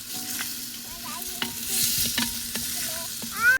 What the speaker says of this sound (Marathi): आवाज बघा कसा येतोय मटण शिजतंय